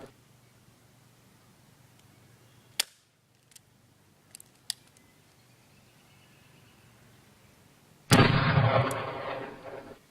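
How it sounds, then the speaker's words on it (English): A revolver is cocked with a few sharp, close mechanical clicks, then after a pause fires a single loud shot whose blast and echo linger for about two seconds. "I'm going to fire off. Cock it back. Aim down the front and rear sight."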